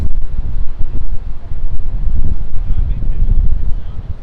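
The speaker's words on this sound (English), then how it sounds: "the wind is picking up a little bit" Strong wind buffets a microphone outdoors on a Thursday night in Midtown Manhattan, producing steady, loud, low rumbling gusts throughout.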